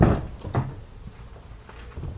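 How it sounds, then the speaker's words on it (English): A car door on a Mk1 Skoda Fabia 1.9 PD opens with a sharp mechanical clunk and a couple of quieter latch knocks. It sounds close and is heard alone. "Open the door."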